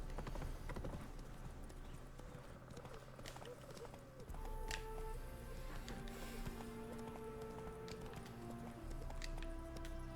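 Roach the horse from Witcher 3 clip-clops along in-game, hoofbeats steady amid ambient game sounds and a brief whinny-like tone, with faint birdsong in the background.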